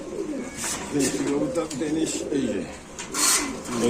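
Pigeons coo at a farm stocked with racer and fancy breeds, a steady low murmuring that runs throughout at moderate loudness, with people talking over and around the birds.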